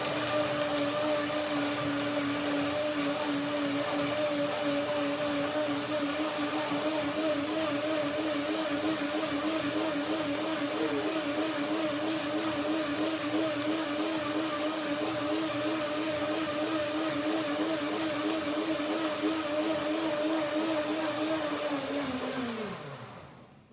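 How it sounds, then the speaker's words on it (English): Blender whirring through bananas and water at high speed in a kitchen, a loud, steady motor whine held for over twenty seconds before winding down and stopping at the end. "blender dance."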